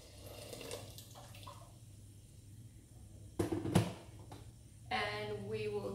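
Water runs from a tap into a pot of chamomile flowers on a kitchen stove, a brief louder splash midway and then a steadier filling gush toward the end over low background hum.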